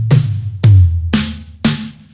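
Four evenly spaced drum hits from BFD3 drum software, each a punchy low thump with a bright crisp attack, played alone in a short steady sequence.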